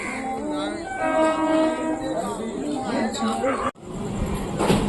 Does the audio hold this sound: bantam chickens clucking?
no